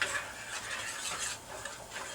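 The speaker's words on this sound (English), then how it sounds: "So just keep stirring until it's melted" Chocolate melting with coconut oil being stirred in a pot, a soft steady scraping and swishing close by with no voices.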